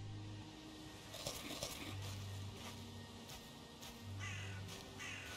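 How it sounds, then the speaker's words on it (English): Crows caw in the video game Valheim, several rough calls repeating at a middle distance over a steady hum of in-game ambience, with no speech. "they sound more like crows, don't they?"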